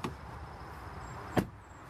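A 2016 Buick LaCrosse car door shuts twice, a soft thud at the start and a firmer, dull close just past the middle, both fairly quiet against a low hum.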